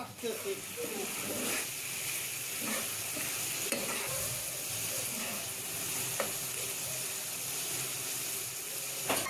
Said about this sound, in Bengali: এবার জিরা বাটা দেওয়ার পরে আমি আরেকটু সময় এভাবে কষিয়ে নেব